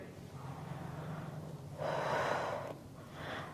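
A breathy exhale during a Pilates reformer exercise, close and soft, with a longer forceful outbreath in the middle over faint background noise.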